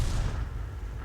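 An M44 artillery shell striking a tank in a video game, heard as a sustained low, heavy rumble of impact and explosion that fills the whole moment at steady loudness, with no talk.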